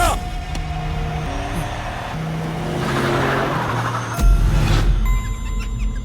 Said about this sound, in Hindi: सब कार में मेरा पीछा कर रहे हैं